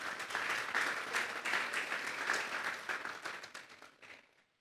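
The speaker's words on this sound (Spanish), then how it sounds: "Vamos a darle un fuerte aplauso pues al Señor." Applause from a congregation at a youth church service, a full crowd clapping steadily and briskly before thinning out and fading to quiet near the end.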